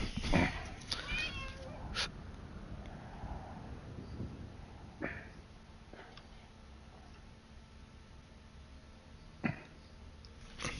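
Indoor cat meowing in a few short, faint calls among quiet room noise and small ticks and clicks, with no talking.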